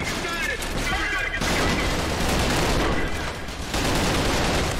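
Sustained gunfire and explosive booms from the shooter game Trepang2 fill the scene, dense and loud throughout with a brief dip partway, while a voice talks over it.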